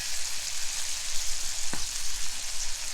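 Venison sizzles in a pan with garlic and butter over an outdoor campfire, a loud, steady close-up hiss of frying with one brief tap of a utensil.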